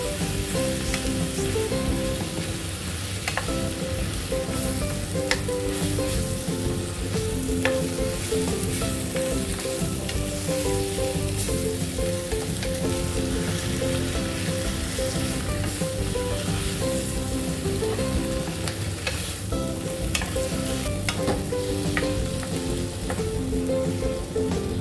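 Spinach frying and being stirred with salmon in a pan for a creamy salmon, spinach and tomato dish: a steady, loud, continuous sizzle runs the whole way through, with occasional clicks from stirring and no talk.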